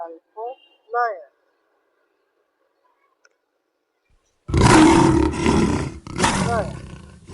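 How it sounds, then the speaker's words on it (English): A lion gives a loud, close roar in two powerful bursts separated by a brief break, after a short spoken phrase and a pause. "L for lion."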